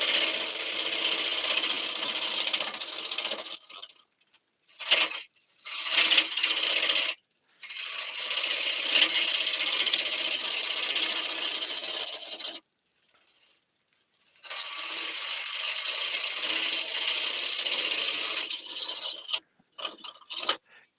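Wood lathe turning a natural edge burr bowl, a steady broadband rasping scrape in long sustained passes broken by several short pauses and a few brief bursts, close and fairly loud with no talking.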